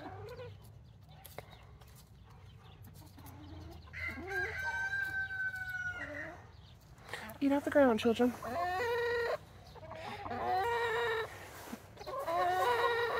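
Chickens on a small beginner homestead farm cluck and crow in repeated bursts, with a rooster's call standing out, while someone talks nearby over the birds.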